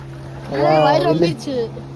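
A tourist boat on the reservoir at KRS Dam carries a steady motor drone, with a person talking loudly over the hum.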